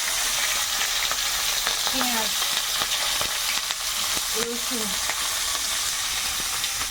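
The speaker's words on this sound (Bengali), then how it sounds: "তেলের মধ্যে একটু কালো জিরে কাঁচা লঙ্কা" Black cumin and green chillies frying in oil, a dense, loud, continuous sizzle with scattered crackles and spoon scrapes, close to the pan, with brief vocal sounds in the background.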